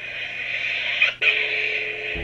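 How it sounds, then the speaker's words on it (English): Custom lightsaber switching off and back on: a steady bright hum cuts out abruptly for an instant, then surges back with a short ignition burst and resumes its drone, close and alone. "the way it sounds when you turn it off and on."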